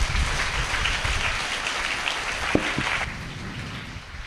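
A church congregation claps with hands raised at a healing testimony service, a dense, steady roar of many hands that fades out toward the end, with a couple of sharp knocks near the middle.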